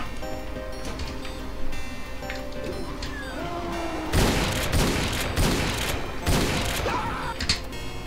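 Gunfire from the shooter game Doom (Sigil episode, played in GZDoom), with a sharp burst of several loud shots in the second half over game sound and music.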